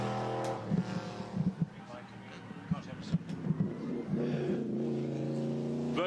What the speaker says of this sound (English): The glorious Alfa Romeo 8C, straight 8. This one, the straight 8. Sounds incredible.